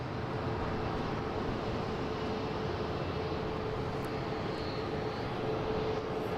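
A Boeing 767-300 airliner at Boston Logan gives a steady, moderately distant broadband jet roar that holds evenly throughout with no talk.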